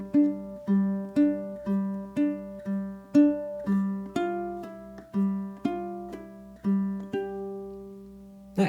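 Ukulele etude passage for hammer-ons and pull-offs, measures 19 into 20: a steady run of plucked notes in an even rhythm, some slurred, played close and alone with a final ringing note.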